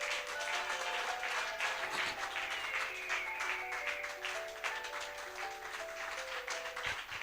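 A church congregation applauds and cheers at a worship service, steady dense clapping sustained throughout alongside music, fairly loud and continuous.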